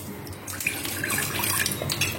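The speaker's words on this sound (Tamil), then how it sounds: "தண்ணி வச்சு ஊற்றி அவரைக்காய் போடுறதுக்கு கொஞ்சமா தண்ணி ஊத்துறேன்" Water poured from a tap into a cooking pot to boil broad beans for a Tamil kootu, a steady close splashing stream running for about two seconds with no talk.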